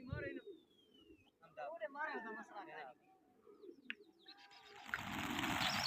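Pigeons coo and chirp in soft repeated calls near a pigeon-keeping competition, faint against the surroundings, while someone talks over them and a louder noisy rush rises at the end.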